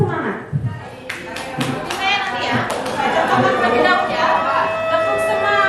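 Group rhythmic clapping chant during an ice-breaking session at a teachers' positive-culture gathering, a series of sharp claps in a pattern mixed with chatter and a voice, then sustained voices over it.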